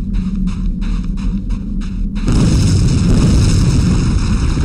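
Fireworks explode in the video game Undying, starting as a rhythmic series of pulsing bursts and then swelling into a loud, continuous roaring blast that fills the scene.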